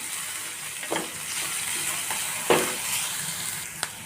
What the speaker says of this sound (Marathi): हे सर्व आपल्याला यामध्ये थोडंसं हलकं असं परतून घ्यायचं आहे खूप जास्त अगदी फुल गॅसवर आपल्याला ही प्रोसिजर करायची आहे